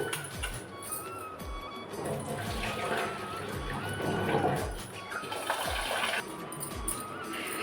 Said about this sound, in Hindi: धो लेती हूँ चावल, फिर चढ़ा देती हूँ